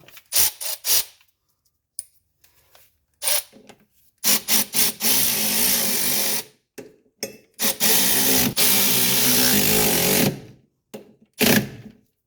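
Bolts with blue Loctite on a front suspension spring perch of a 1985 wagon are run down with a power tool in short bursts, several quick whirring runs separated by pauses, close and fairly loud.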